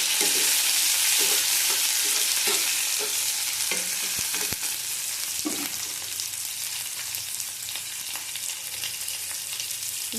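Tomatoes go into fried onions in a pan, followed by a loud, steady sizzle that runs the whole time. A few scraping stirs come early and then fade into the even hiss, with no talking.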